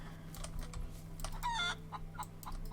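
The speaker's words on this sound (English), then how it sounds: "Come on, chicken, die." A chicken in the Rising World video game gives a short, faint clucking call partway through, mixed with computer keyboard clicks and a steady low background hum.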